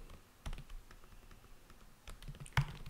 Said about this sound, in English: So I'm going to quickly type in a few lines of code.